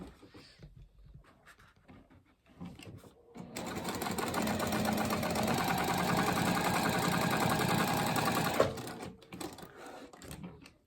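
A sewing machine stitches a leather coffin-shaped wallet panel, running steadily for about five seconds with a fast mechanical whir, framed by quiet handling noises before and after.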